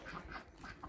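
Farm ducks out walking give several short, faint quacks in quick succession, heard alone without talk.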